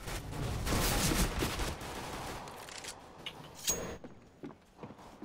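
Rapid bursts of video game gunfire from P90 submachine guns in a competitive shooter, a dense fusillade of overlapping shots for the first few seconds, then thinning into scattered single shots and clicks as the firing tapers off.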